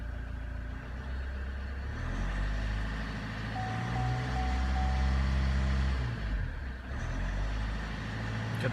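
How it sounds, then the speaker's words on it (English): Vauxhall Zafira Tourer engine idling after an oil and filter service, a steady close rumble with a thin high tone in the middle, no talking. "engine is idling."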